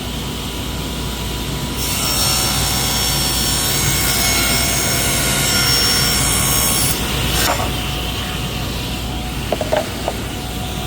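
Saw blade set low cuts through double-thick shelf boards for a kitchen remodel: a loud, steady whining rip starts after a second or two, runs several seconds, then drops off into a few small clicks.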